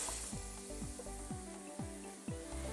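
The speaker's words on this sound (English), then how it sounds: "I like to add the onions about the last 2 or 3 minutes just to let them saute a little." Onions sauteing in about two tablespoons of hot oil in a pan give a steady, close sizzle, broken by a few low knocks and scrapes spaced roughly every half second.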